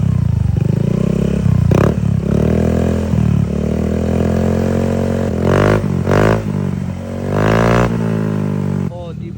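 Honda Click scooter fitted with an aftermarket cabin exhaust pipe, idling with a deep throaty rumble and several sharp revs, loud and close.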